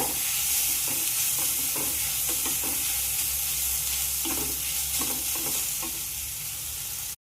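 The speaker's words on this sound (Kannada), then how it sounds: "ಈ ಮಾವಿನಕಾಯಿ ತುರಿದು ಇಟ್ಕೊಂಡೇವಲ್ಲ, ಇದನ್ನ ಹಾಕ್ತೇನೆ. ಹುರ್ಕೋರಿ ಇದನ್ನ ಚೆಲ್ಲಂಗ." Grated raw mango sizzles loudly in a pan and is stirred with steady scraping strokes, the frying hiss constant and close throughout, with no speech.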